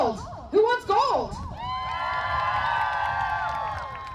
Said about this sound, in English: Why do you guys always cheer louder when we say we're going to pay you?